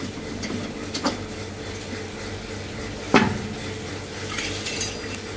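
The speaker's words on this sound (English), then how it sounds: "Now the worker to take off the meatball mold." A worker takes the mold off a TF-180 meatball machine, giving light metallic clinks and handling noises against a steady background hum, with one sharper metal clank partway through.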